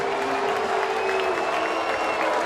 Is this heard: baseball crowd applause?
yes